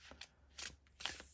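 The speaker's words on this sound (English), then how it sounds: "we're going to wake up this deck and shuffle it" A tarot deck is shuffled close by in three quick, soft riffling bursts separated by brief pauses.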